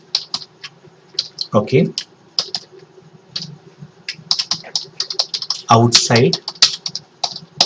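Keyboard typing while Python code is written, a fast run of clicky keystrokes scattered across the stretch, with someone talking over it in two bursts.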